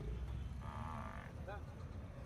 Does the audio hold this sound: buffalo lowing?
yes